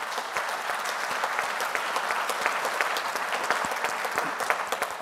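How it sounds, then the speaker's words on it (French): An audience applauds loudly and steadily at a ceremony naming the flag bearer for the London 2012 Paralympic Games, dense sustained clapping with sharp individual claps standing out throughout, no voices over it. "je voudrais qu'on l'applaudisse très très fort"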